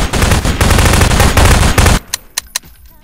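Shotgun fire in a Trouble in Terrorist Town game match: a dense, loud stretch of rapid blasts and gunfire, then three sharp, separate shots after a sudden drop to near quiet.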